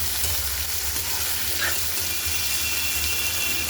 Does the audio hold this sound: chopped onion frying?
yes